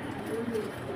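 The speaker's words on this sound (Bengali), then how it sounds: "কোকাটা এখন ডাকতেছেন হয়তো" Arabian coca pigeon giving a low, soft coo at close range, brief and partly under someone speaking.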